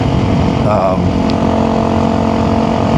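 A Honda CRF300L fitted with a full Yoshimura exhaust is ridden in the dark, a steady, loud engine drone running unbroken and close throughout, mixed with rushing wind.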